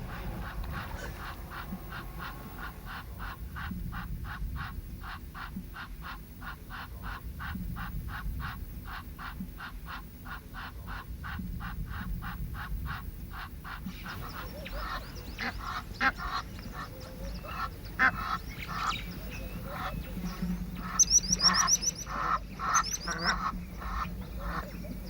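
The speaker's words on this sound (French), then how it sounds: "comme cette mouette à tête grise." A grey-headed gull calls repeatedly in the Rift Valley, a long run of regular, evenly spaced cries followed by a busier, more varied stretch of calls from several birds, moderately loud with steady background.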